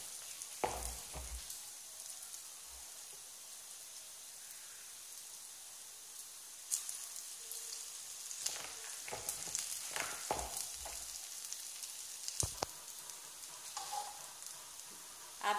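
Urad dal dahi vadas fry in hot oil with a soft, steady sizzle, punctuated by close scraping and clinks of a utensil turning them in the pan.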